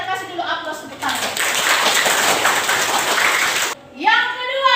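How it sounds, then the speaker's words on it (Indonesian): Students clapping in a classroom, a burst of dense applause lasting about three seconds, with a teacher's voice speaking just before and right after it. "kita kasih dulu aplaus tepuk tangan"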